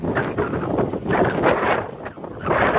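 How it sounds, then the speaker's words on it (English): Wind buffets the microphone in loud, uneven gusts, a rumbling roar that swells and eases with no voices present. "A little windy today."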